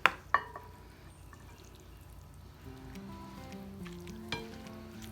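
Cooked spaghetti is tossed through sizzling puttanesca sauce in a pan, with a couple of sharp clanks at the start, then a steady soft sizzle and stirring noise up close.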